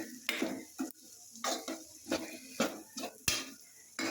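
A spoon stirs beetroot fry in a pan, giving a series of sharp scraping strokes with a light sizzle beneath and short quiet gaps between each stir.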